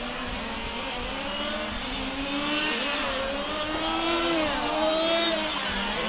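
A large-scale RC race car engine at a world championship final screams up through rising, gliding pitch sweeps as it accelerates down the back straightaway. The note is steady and fairly loud, with other cars droning beneath it.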